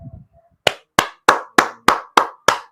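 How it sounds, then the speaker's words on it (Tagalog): Seven sharp, evenly spaced claps ring out close and loud after a short moment of quiet murmur, each crisp slap standing alone in a steady rhythm. "Palakpak naman dyan!"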